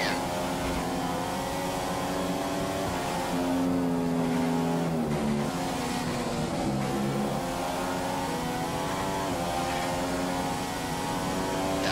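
Race cars in a racing game at Silverstone drone steadily, engines humming and shifting pitch as they pass, a continuous mechanical whine with no talk.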